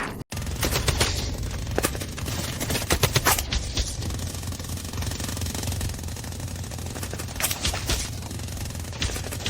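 A rapid Gatling gun fires in sustained bursts of dense, rattling shots in an animated battle scene, loud and continuous with a few sharper cracks standing out.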